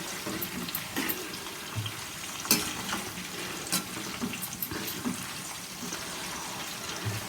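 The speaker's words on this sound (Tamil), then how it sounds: "வேகட்டும், நல்லா பொரியட்டும்." Kerala nendran banana slices fry in hot oil with salted water added for colour, producing a continuous crackling sizzle punctuated by scattered pops and light clicks, near and without speech.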